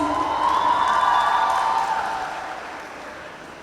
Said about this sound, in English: can we have a huge round of applause for their amazing performance?